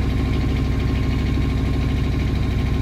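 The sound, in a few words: engine idling after being started with key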